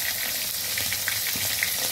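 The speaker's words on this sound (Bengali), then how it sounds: "এই 4 টুকরো করে ভেজে নেবো লাল লাল করে।" Pieces of tilapia sizzle in hot oil, a steady loud crackle with small pops, no voices over it.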